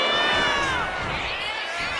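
Arena crowd in the WWE 2K25 wrestling video game roars with cheering for a wrestler's big moment, a dense, sustained wash of voices with whistle-like tones running loud and steady throughout.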